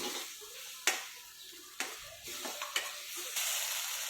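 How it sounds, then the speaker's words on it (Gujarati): Thickened gravy is stirred after a wheat flour slurry goes in, soft sizzling under a few sharp spoon-on-pan knocks and scrapes, close but quiet, with no talking. "ઘઉંના લોટની જે સ્લરી કરી હતી એ આમાં થોડીક આપણે એડ કરીશું, જેથી ગ્રેવીમાં થિકનેસ આવે"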